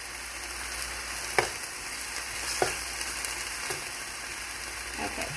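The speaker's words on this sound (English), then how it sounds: "So the sausage cooks just like any other sausage that you would cook." Sausage fries in a pan with a steady, close sizzle and a few brief scraping stirs or spatters at intervals, with no voices.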